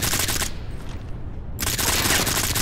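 Rapid, loud automatic gunfire from the Modern Combat 5 multiplayer shooter bursts continuously, breaks off briefly, then resumes with dense repeated shots close up.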